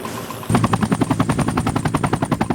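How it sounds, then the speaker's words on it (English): Military helicopter arriving at an embassy for a Navy SEAL evacuation, a loud steady rotor chop of rapid regular thumping pulses that starts abruptly and fills the whole stretch. "Here's the chopper."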